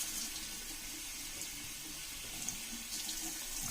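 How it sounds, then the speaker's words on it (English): Tap water runs steadily as dirt is rinsed out of fish tank substrate, a continuous close splashing flow with no talking. "This stuff is going to be mostly dirt that I'm rinsing out"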